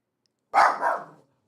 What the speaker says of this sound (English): She doesn't bark that often.